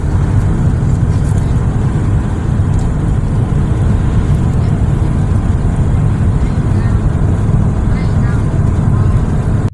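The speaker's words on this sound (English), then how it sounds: "You see that semi truck drive by?" Steady, loud rumble of freeway traffic heard from inside a moving vehicle, with a semi truck passing on Interstate 40 near Tulsa, Oklahoma, blending into continuous road and wind noise throughout.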